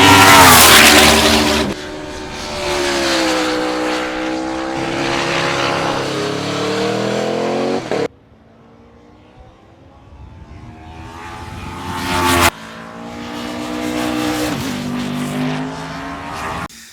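A 2022 Norton V4SV superbike laps Mallory Park, its loud V4 engine rising and falling through the gears as it passes close, fading into the distance, then roaring back past again.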